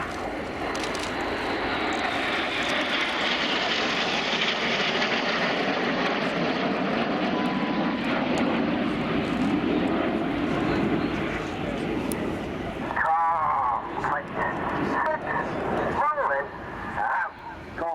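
Red Arrows BAE Hawk jets flying a close formation display at RIAT 2016, a loud sustained jet roar sweeping overhead then fading, with a commentator speaking over it.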